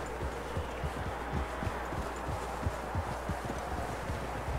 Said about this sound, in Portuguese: Olha aí o cavalo do Javier.